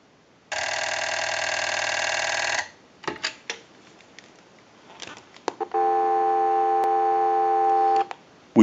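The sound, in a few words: telephone dial tone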